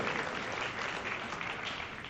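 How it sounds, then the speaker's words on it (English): At a hall of fame dinner, the audience applauds a coach with a soft, even wash of clapping from a roomful of guests, steady and unbroken throughout, fairly quiet and slightly muffled. "So a big round of applause for Coach Horn"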